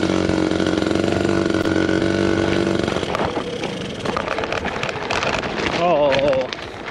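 A Honda Express moped engine runs on a gravel road, a steady buzzing putter for about three seconds that then falters and dies away into rougher crunching and scraping noise, with a voice briefly heard near the end.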